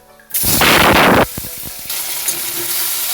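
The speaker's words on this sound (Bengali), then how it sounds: "শুকনো লঙ্কা আর সামান্য কালো সর্ষে ফোড়নটা কিছুক্ষণ নাড়াচাড়া করে টমেটো কুচিগুলো দিয়ে দিচ্ছি" Chopped tomatoes hit hot mustard oil tempered with dried red chilli and black mustard seeds, giving a loud, sudden sizzling burst that lasts about a second, followed by a few soft clatters and a quieter ongoing fry.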